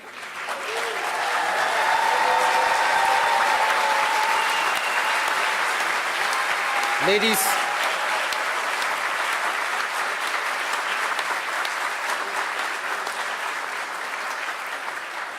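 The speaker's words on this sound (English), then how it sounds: "We applaud you all." Sustained applause from a graduation ceremony audience honoring graduates of an aeronautics and astronautics department, a dense, even roar of clapping lasting throughout with a brief crowd rise midway.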